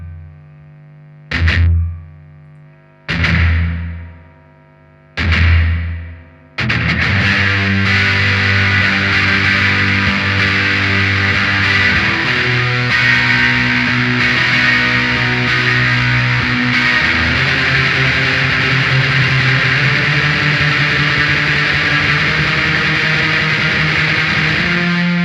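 An electric guitar runs through a Greer Guerrilla Warfare overdrive with a Source Audio Collider adding slapback reverb: three sharp muted chord stabs, then thick, sustained distorted chords ringing continuously.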